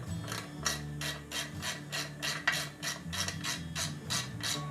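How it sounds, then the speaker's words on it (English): Fasteners being cranked down on an OEMTOOLS tear down tray, a close, steady run of rapid ratcheting clicks in an even rhythm over a low mechanical hum, with no voices. "These ones you can crank down."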